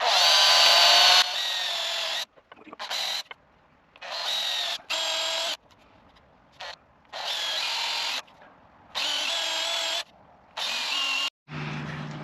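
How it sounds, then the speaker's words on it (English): Cordless drill boring 16mm holes in wood for a chair, loud whining bursts of a second or two repeated about eight times with short pauses between. "Right, so I've got to drill a series of holes, 16mm"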